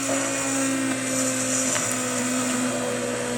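A hand-held burr blender whirs steadily as it mashes apples into a chunky sauce, a loud continuous motor drone with a grinding edge that holds from start to finish, with no voices.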